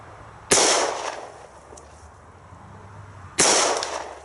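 Two loud, close gunshots from a Citadel Compact 1911 .45 ACP pistol fired outdoors, about three seconds apart, each a sharp crack with a short ringing tail.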